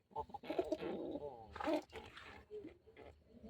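Pigeons coo softly in a few short throaty bursts at close range, with newly hatched chicks among them and a voice talking over the sounds.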